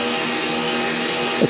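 A power drill with a clutch drives screws while a dump trailer is being built, giving a loud, steady, close motor whine that holds through the short burst with no speech.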